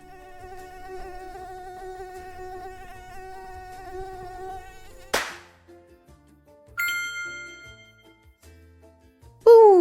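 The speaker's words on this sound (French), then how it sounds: "Ouh, un vilain moustique." A recorded mosquito whines in a steady high buzz for several seconds, then a sharp splash-like burst, a bright metallic ding and a final rising chime follow in a children's sound quiz.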